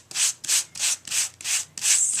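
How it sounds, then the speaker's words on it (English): Gentle back-and-forth strokes of a sanding block over card stock, six soft scratchy swishes in a quick even rhythm, close and quiet. "Now I'm going to take my sanding block, and I'm just going to gently"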